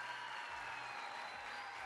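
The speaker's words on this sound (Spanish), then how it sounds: "Nos despedimos ahora sí con este aplauso final." Faint, steady applause from a small audience closing a singing workshop concert, a continuous even patter of clapping with no break across the short stretch.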